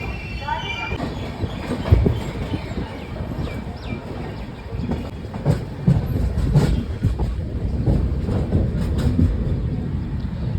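The weekly Bhubaneswar-Puducherry express rolls along the line near Villupuram, a steady rumble of wheels on track with clattering joints and occasional squeals, heard close from onboard while someone speaks over it.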